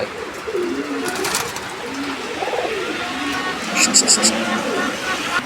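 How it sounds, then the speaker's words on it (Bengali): Hungarian pigeons coo in soft, low, rolling calls, close and repeated, while a person talks over them and brief chirps sound near the end. "আমরা এই মুহূর্তে দেখাচ্ছি আরও একজোড়া কবুতর"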